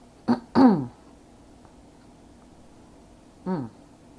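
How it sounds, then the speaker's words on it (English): Three close throat-clearing sounds: two quick harsh rasps back to back, a pause, then one more, against near silence. "I had to clear my throat with that one."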